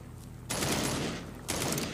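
Two loud bursts of rapid automatic fire in the Into The Dead 2 zombie-shooting game, aimed at a large horde, each lasting about a second, separated by a short pause over a low background hum.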